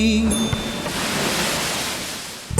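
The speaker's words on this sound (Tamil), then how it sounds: "கடலை எழுப்பும் ஒலி" Steady roar of ocean waves washing in, a broad rushing surge that swells and slowly recedes, with a faint tone at the start.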